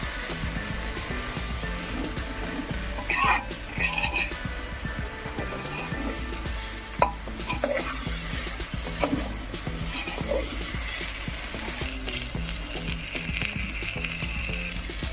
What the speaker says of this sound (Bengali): ভালোভাবে নাড়াচাড়া দিয়ে ভেজে নেব চালটা